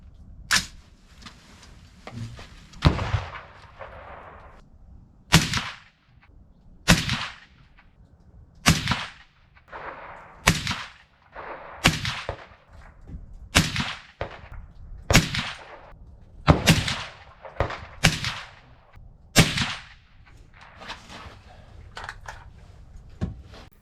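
A 300 Blackout rifle fires 150gr spitzer handloads over 19.5 grains of CFE Black. About a dozen sharp, loud cracks ring out one at a time, spaced a second or two apart, each followed by a short echo tail.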